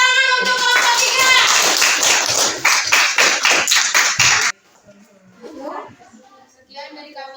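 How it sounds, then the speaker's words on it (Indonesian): A class of children applauds group 3 in a school lesson, with loud rhythmic clapping in steady beats for about four seconds, then quiet with children's voices talking. "Tepuk tangan untuk kelompok 3."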